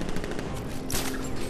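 Enemy gunfire in the Batman Arkham Knight video game, a rapid rattling automatic burst mixed into dense game ambience, one brighter sharp crack standing out near the middle, fairly quiet overall.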